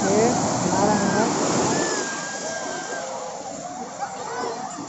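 Sea waves wash and roll onto the sand at Puri beach in Odisha, a loud continuous rush that gradually fades as the surge recedes, with voices of people on the beach talking and calling beneath it.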